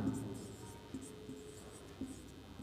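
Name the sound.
writing numbers by hand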